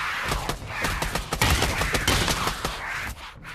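Rapid gunfire bursts in the Pavlov VR zombies shooter, a dense run of sharp repeated shots close up and loud, continuing almost unbroken for a few seconds.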